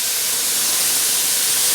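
Baby bella mushrooms, eight ounces, sizzle in a hot pan with a large shallot onion, giving a steady, close, even hiss that holds at the same loudness throughout with no voices.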